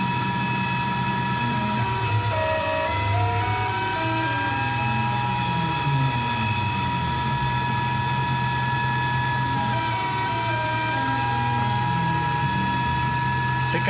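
Tormach PCNC 1100 CNC mill cutting an AR-15 gas block, a steady loud whine with sustained tones and shifting pitch sweeps as the cutter runs a narrow width of cut, no talking.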